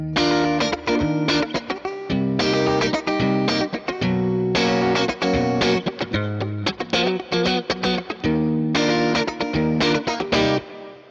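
An electric guitar plays chopped, rhythmic chords through a Deluxe Reverb amp model on a Fractal Audio FM3, with a bright, slightly gritty tone, strummed in bursts with short pauses.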